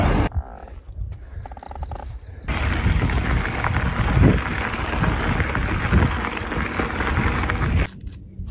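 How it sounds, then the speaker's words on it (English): Heavy rain pours down in a dense, continuous hiss, loud and close, after a few seconds of quieter rustling and handling noise. "Could you imagine that it's pouring rain right now?"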